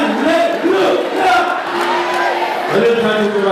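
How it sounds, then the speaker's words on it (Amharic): A church congregation at a gathering in Seattle ululates loudly, high trilling voices overlapping with cheers and whoops from the crowd in a sustained, energetic wave. "እልልታችሁ ቁራስ ይባርካችሁ"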